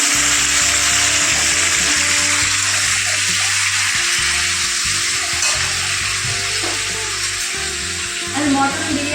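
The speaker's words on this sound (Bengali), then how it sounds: "তাই আলুগুলো ভেজে নিচ্ছি" Potatoes sizzling steadily in a pan of oil while village-style mutton biryani dishes are prepared outdoors, a continuous bright frying hiss with low background rumble and occasional faint voices.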